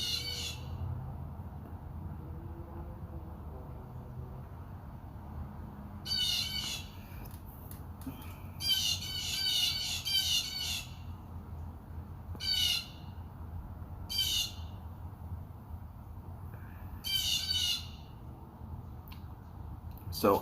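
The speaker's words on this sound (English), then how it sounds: "I think the crows are coming to see if I'm still alive." Crows cawing outdoors in repeated harsh bursts, several groups of calls over a steady background hum, moderately near and fairly loud against the quiet.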